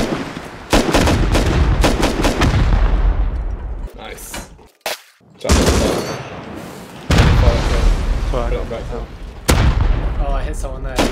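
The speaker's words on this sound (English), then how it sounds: "Fire rockets at them, yeah. Incoming rockets. Fire rockets back." Rockets fire during a nighttime raid in a multiplayer survival game, with repeated sharp booms and blasts, some near and loud, others more distant, under steady overlapping talk from players.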